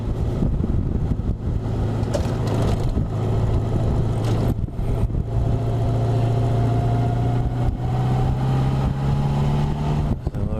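A Honda Goldwing motorcycle engine idles close by, a steady low rumble with a gently rising hum, before setting off from Huibergen.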